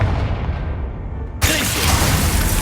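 A Confringo fire spell explodes in the Hogwarts Legacy video game: a sudden loud blast midway that opens into a sustained bright roar and crackle, following a lower rumbling bed, with no talking.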